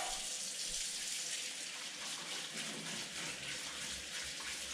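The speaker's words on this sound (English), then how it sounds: "let me go ahead and wash my hands" Tap water runs steadily into a sink while someone washes their hands, a soft constant gush with faint splashing, fairly quiet and even throughout, with no talking.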